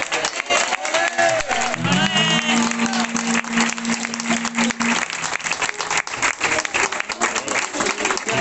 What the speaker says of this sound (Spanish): Pido un fuerte aplauso